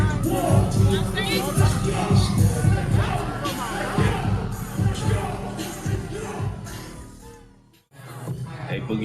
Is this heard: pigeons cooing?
no